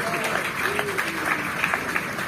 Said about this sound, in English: give your colleagues or yourself a big round of applause